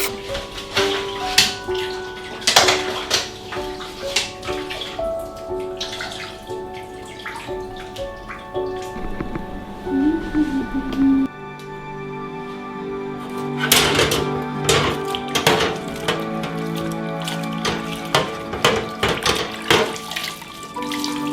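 Running water gushes into a kitchen sink while dishes and kitchen items are washed, with clinks and clatters of handled objects and changing splashes as the flow starts and stops during an after-hours kitchen deep clean.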